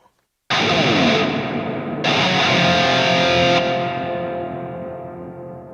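Two loud distorted guitar chords ring out through a Two Notes Torpedo Captor X, each swelling with a heavy wash of reverb that lingers and slowly fades.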